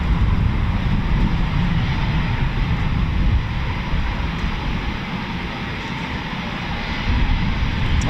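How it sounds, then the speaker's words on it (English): Eurofighter Typhoon FGR4 jets of 29 Squadron taking off at RAF Coningsby, a loud continuous jet engine roar holding steady throughout, swelling slightly again near the end. "2 from 29 Squadron about to take off."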